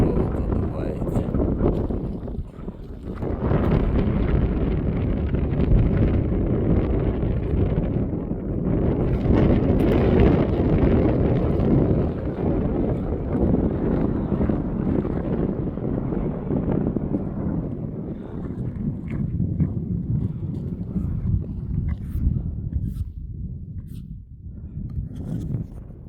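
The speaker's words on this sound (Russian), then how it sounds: "Ветер тут хорошо подувает" Strong wind blowing on the southern shore of Lake Issyk-Kul near Aksai, a steady loud rushing buffet across the microphone throughout, with a voice briefly heard beneath it.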